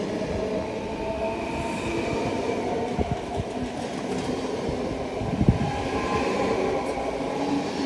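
Train at Schiedam Centrum station in the Netherlands, a steady rumbling roll of carriages with rail clatter, wheel squeal and a few sharp clanks, continuous and fairly loud throughout.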